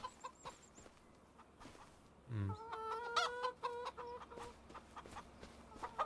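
Hens clucking in a hen house in Farming Simulator 25, with sparse sounds at first, then a run of close, quiet clucks and cackles from about the midpoint onward.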